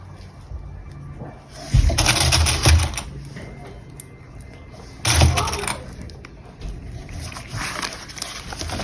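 Sewing machine stitching fabric for a small bowler bag, heard close as two bursts of rapid whirring stitches separated by quieter handling noise.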